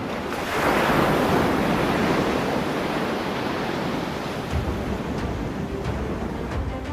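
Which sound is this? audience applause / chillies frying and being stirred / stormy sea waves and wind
stormy sea waves and wind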